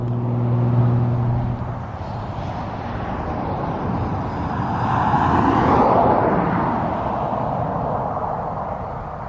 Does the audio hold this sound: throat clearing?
no